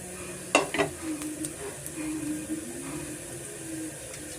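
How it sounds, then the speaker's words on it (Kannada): Fennel seeds, curry leaves, cinnamon, cloves and peppercorns hit a little hot oil with a sharp burst of crackling, then settle into a close, steady sizzle with light stirring and occasional pops. "ಸೋಂಪು ಕರಿಬೇವು ಮತ್ತು ಚಕ್ಕೆ ಲವಂಗ ಕಾಳುಮೆಣಸು ಇಷ್ಟನ್ನು ಸೇರಿಸ್ಕೊತಾ ಇದ್ದೀನಿ ನಾನು ಸ್ವಲ್ಪ ಎಣ್ಣೆನಲ್ಲಿ ಫ್ರೈ ಹಾಕಬೇಕು"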